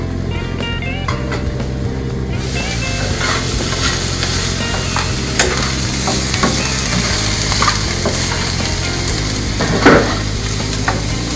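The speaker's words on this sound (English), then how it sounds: "Already it's sauteing, you can get the nice aroma." Vegetables for green bean casserole sautéing in a pan, a loud dense sizzle with occasional clinks and scrapes of stirring, steady and close throughout.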